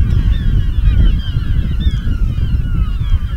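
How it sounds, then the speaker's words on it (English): Seagulls call continuously in a loose, overlapping chorus, moderately loud above strong low wind rumble in an Arctic Inuit setting. "That's seagulls."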